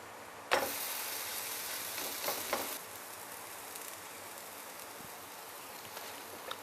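Puran poli cooking on a griddle over medium gas with a drop of ghee, a sudden sizzle that flares up then settles into a steady soft hiss.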